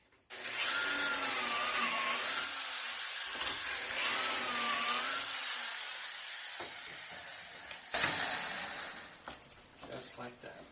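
A drill drives pocket screws into IKEA kitchen cabinet wood, whining steadily at close range in two long runs with rising pitch sweeps, then stopping, followed by brief knocks and handling noise.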